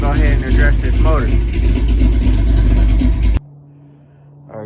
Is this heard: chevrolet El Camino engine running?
yes